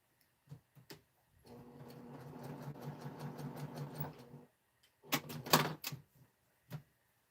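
A home sewing machine stitches in a steady rapid whirr for about three seconds, then after a pause runs a shorter, louder burst; a few soft clicks frame the runs, quiet and close, with no talking.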